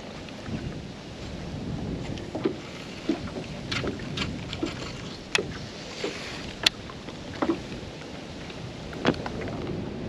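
Gusty wind buffeting the microphone on an open fishing boat on the water, a rough continuous rumble with scattered sharp knocks and clicks from the hull and gear.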